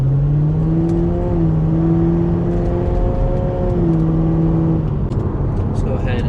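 A Corvette fitted with new Wilwood brake pads and rotors drives at low speed on the road, its engine a steady droning hum that shifts pitch as it moves through the gears, loud and close, with no talking.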